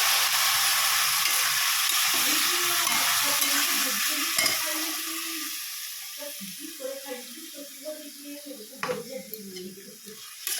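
Spices for a spinach curry fry in a pan while a spoon scrapes and stirs through them, a steady sizzle that gradually quietens, with a voice talking softly over the cooking.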